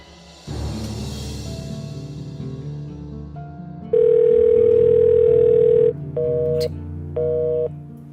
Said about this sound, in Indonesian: Gue telepon aja kali ya.